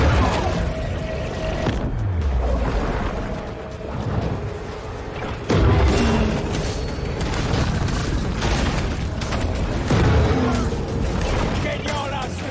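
Booming torpedo explosions in the shark video game Maneater, with several heavy bursts and rumbling underwater action over about twelve seconds. A voice talks over the din.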